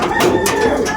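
Racing pigeons coo in a loft, a close, loud, throaty burble lasting about a second.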